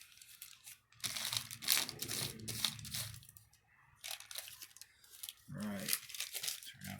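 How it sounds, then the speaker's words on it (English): A sheet of paper is crumpled up by hand for texture while painting, giving crinkling, crunching bursts in two main runs with a short pause between, close and fairly loud. "I need another piece of paper. Crumple it up, that helps make texture."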